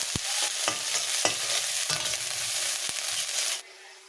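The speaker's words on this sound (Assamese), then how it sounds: "আমি পিয়াজটো অলপ লৰাই লওঁ কালাৰ হ'বলৈ দিওঁ" Sliced onions with a bay leaf stirred in a frying pan for an Assamese pork dish, giving a steady close sizzle broken by several sharp spoon scrapes and clacks before the sound cuts off near the end.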